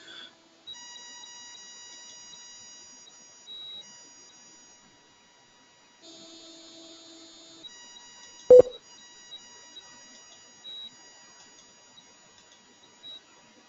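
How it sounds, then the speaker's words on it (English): A conference call plays electronic beep tones as someone joins. Sustained steady tones shift in pitch, with one short sharp click partway through. There is no talking. "You will no longer hear beeps until someone else joins the conference"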